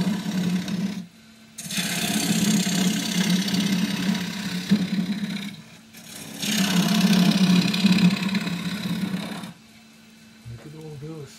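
A 1/4 inch bowl gouge hollows the end grain of crossgrain green ash spinning on a wood lathe, with a steady motor hum beneath three bursts of scraping, hissing cuts separated by short pauses, close by.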